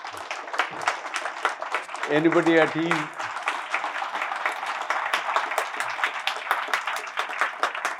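An audience at a hospital OPD inauguration claps in sustained, dense applause that carries on under someone speaking at a microphone.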